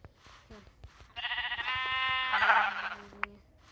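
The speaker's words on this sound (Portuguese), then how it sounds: "Eu vou pegar ovelha agora, tá?" A sheep in the Minecraft video game gives one long, clear bleat lasting over two seconds, close and prominent over faint background sounds, with no talk.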